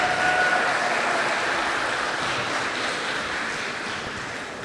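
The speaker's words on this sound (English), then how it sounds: "Let's give Zav another round of applause," An audience at a family reunion dinner claps together in a steady, dense wash of applause that stays even and slowly fades a little over several seconds.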